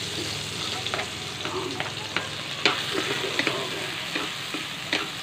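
Garlic and onion sauté in a hot pan with a constant close sizzle, broken by irregular clicks and scrapes of stirring, and no talk.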